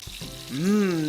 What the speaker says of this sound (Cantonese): 開翻個大火，豬扒每一面都煎佢10到15秒